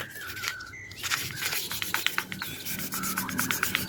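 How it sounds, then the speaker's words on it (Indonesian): Fine sandpaper rubs against a metal fan motor shaft in quick back-and-forth strokes, a steady scratchy rasp repeating close by. "Nah ini asnya kita amplas dulu sobat."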